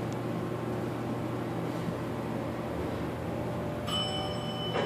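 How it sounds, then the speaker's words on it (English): A Montgomery hydraulic elevator in a Kohl's store hums steadily with its motor drone, and its bell rings near the end with a bright, sustained metallic tone. "Got a bell down here, behind there."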